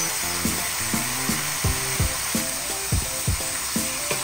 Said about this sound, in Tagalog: Ginagisa ko na po ang ating kamatis